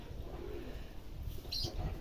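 A pigeon of a show or breeding type, cooing softly nearby as a few low, rounded coos over faint background noise.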